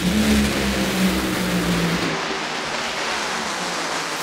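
Drag racing cars launch down the strip with a loud, roaring engine blast that holds for about two seconds and then fades into a duller, more distant rumble and broad noise.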